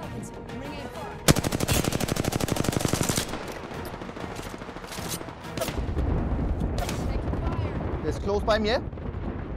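Airstrike explosions in Apex Legends: a loud rapid string of blasts like machine-gun bursts, then scattered booms and rumbling impacts, with players talking over the action.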